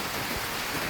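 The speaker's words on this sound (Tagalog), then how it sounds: "Sa lakas na ulan na ito, talagang malakas din yung buhos doon sa loob ng kanilang bahay." Heavy rain pours down in a dense, steady hiss at a house, loud and close with no pauses.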